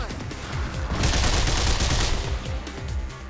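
Gunfire in Mirror's Edge, a fast burst of close, dense shots and clattering impacts that swells in the middle and runs on under a steady game soundscape.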